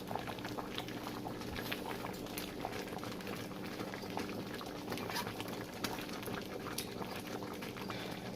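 Ogbono soup with bitter leaf cooking uncovered in a pot, giving a steady, soft bubbling and popping simmer that continues evenly throughout.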